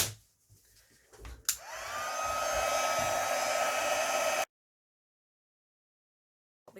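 A heat gun used for heat embossing a handmade card switches on with a click and blows a steady, loud whirring rush for about three seconds, then cuts off abruptly into silence.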